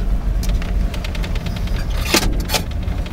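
Power window motor of a 1996 Ford F150 whirring inside the cab over a low steady rumble, with a couple of brief clunks and squeaks near the end.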